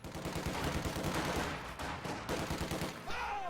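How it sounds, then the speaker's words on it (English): Bursts of enemy machine-gun fire in the Company of Heroes strategy game rattle continuously amid layered battle gunfire, dense and steady with a brief pause near the end. "Contact! Enemy machine gun!"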